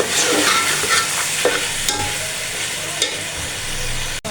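Chickpeas frying in a pot, a loud close-up sizzle with scraping stirring strokes and a few clanks of the spoon against the pot, no talk.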